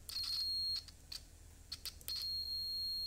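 A continuity tester checking electrical contacts on a Xiaomi Mijia M365 scooter BMS gives a high electronic tone, steady at first, then breaking into short beeps, then steady again.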